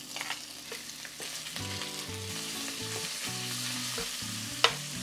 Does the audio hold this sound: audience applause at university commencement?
no